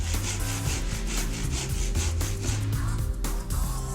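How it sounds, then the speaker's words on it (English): Hand saw cutting timber to half depth for a housing joint in a door frame lining, with steady rhythmic back-and-forth rasping strokes heard close and loud throughout. "cut your housing joint to half depth"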